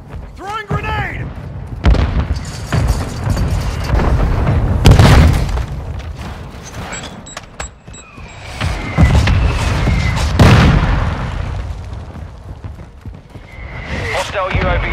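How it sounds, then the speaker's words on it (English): Mortar strike explosions in Call of Duty: Modern Warfare 2 multiplayer, several deep booms landing at irregular intervals over roughly fifteen seconds, some near and loud, others duller, mixed with scattered gunfire and game voices. "Hostile mortar strike incoming!"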